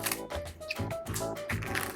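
Scissors snip through a cooked lobster shell in a kitchen, making a run of close, crisp crunching and rustling cuts with no talk over them.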